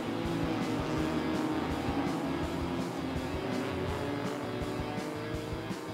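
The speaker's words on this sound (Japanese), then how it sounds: "ブラックアウト、今スタート、あーそして石川がスタートできない、大きく遅れていく" 660cc race cars launch together at the start of a race at Ebisu circuit, a dense, loud, continuous roar of small engines droning and revving under steady crowd-level noise.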